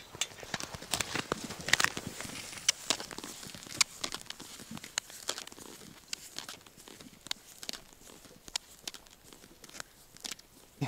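Ice sliding off bushes and water trickling beside a river at first ice, giving a scattered run of crisp cracks, ticks and patters against a soft background wash, faint overall with no talk.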